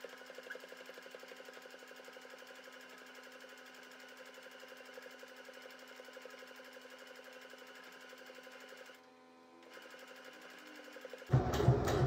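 A domestic sewing machine with speed control stitches the third side of a bedroom pillow, giving a steady, close motor whir that briefly stops near the end before a loud clatter.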